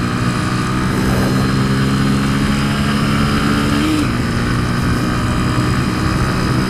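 A Honda CBF125 motorcycle engine drones loudly and steadily at speed in sixth gear, with constant wind rush and a brief pitch dip partway through.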